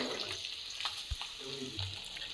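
Chopped vegetables fry in a small amount of hot oil for vegetarian chowmein. A soft, steady sizzle runs throughout at low volume, with faint stirring scrapes mixed in.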